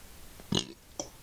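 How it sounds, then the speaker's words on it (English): A person lets out a single short, low burp, quick and fairly loud, with a faint vocal sound just after. "Oh, that gave me a burp."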